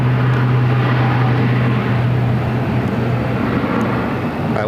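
An airliner rolling down runway 8 at Phoenix on its takeoff run toward Tokyo Haneda, a loud, steady engine roar with a low droning hum throughout, heard from a distance.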